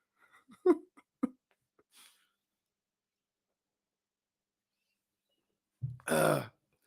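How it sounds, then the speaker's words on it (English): A single loud, drawn-out burp rings out close by after a few soft mouth noises and a long stretch of quiet. "Can you hear me burp?"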